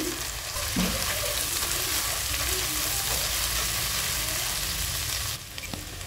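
Garlic and ginger paste frying in a pan for a pangas fish curry, a continuous loud sizzle with a brief stir and clatter, unbroken and close.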